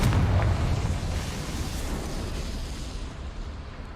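A booming blast from the Confringo spell in Hogwarts Legacy opens loud and close, with a heavy low rumble that decays slowly into a sustained roaring wash over four seconds.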